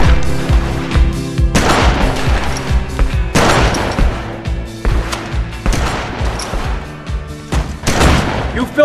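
Gunfire at a shooting range in GTA Vice City: loud, repeated gunshot blasts come in several separate bursts with booming reports and ringing decay between them.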